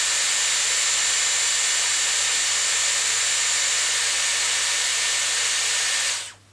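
A Dyson Airwrap hair styler blows steadily on its cool setting, a loud, even whooshing hiss with a low motor hum that holds for several seconds and then cuts off abruptly as it is switched off.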